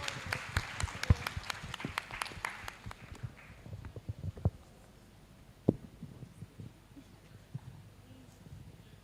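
A conference audience applauds a panel and its moderator, a dense burst of clapping that thins into scattered claps and then fades to quiet room noise.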